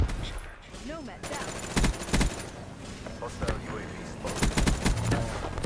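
Rapid bursts of automatic gunfire from a DLC weapon in a multiplayer shooter video game crackle through the scene in repeated volleys, with players talking over the shots.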